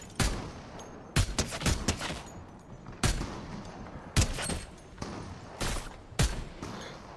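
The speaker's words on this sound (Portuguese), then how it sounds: "me parece também alguém atirando" Gunfire crackles through a Fortnite match in a series of sharp shots spread across the clip, some doubled into quick bursts, at moderate distance with no voices over them.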